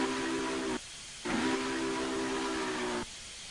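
Steam whistle of a Union Pacific FEF-3 844 locomotive in Train Simulator 2015 sounds two toots, a short blast then a longer sustained one, loud and close with a hissy edge and a brief gap between.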